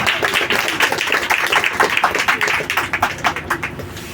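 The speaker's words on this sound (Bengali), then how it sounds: "জোরে জোরে হাততালি দিন, আরো জোরে, আরো জোরে" Church congregation clapping hands loudly in a quick, steady rhythm, many sharp claps close together forming a lively, continuous beat for the full duration.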